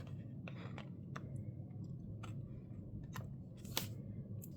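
Scissors cutting paper for a journal page, close crisp snips in a few irregular clicks over a quiet room hum, no talking.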